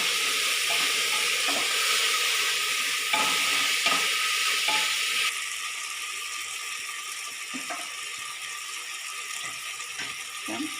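Onion, tomato and green chilli sauté for a beef curry, a steady sizzle punctuated by repeated scraping spoon strokes, the frying softening partway through, with no voices.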